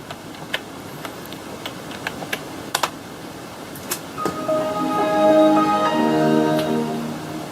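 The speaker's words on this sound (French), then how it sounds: "Donc là je vais taper mon code." Password typed on an Acer PC keyboard, scattered sharp key clicks up close, then a rising chime-like startup tone plays over the last few taps.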